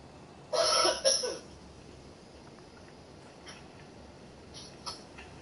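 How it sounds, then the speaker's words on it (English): A single brief nose blow, a short breathy burst lasting under a second, close to the microphone, followed by quiet room tone with a couple of faint soft clicks. "Just blow my nose, sorry."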